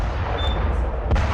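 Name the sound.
explosion outside Trump Tower in news footage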